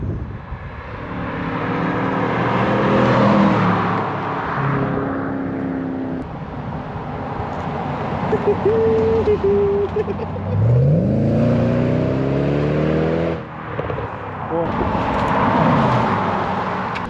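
A Mercedes C63 AMG W204 V8 exhaust roars loud and close, with repeated revs whose pitch climbs and falls in sweeping waves, and no talk over it.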